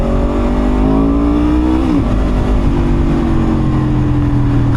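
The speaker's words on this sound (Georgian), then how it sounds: "ხმად საკმაოდ კარგი აქვს, ჩუმი მოტოციკლეტი ნამდვილად არ არის და არც შემაწუხებლად ხმაურიანი არა." Aprilia RS V4 RR sport motorcycle engine revving hard and steady, a loud close V4 roar with a pitch that climbs, dips briefly near the middle, then holds high, with no talk over it.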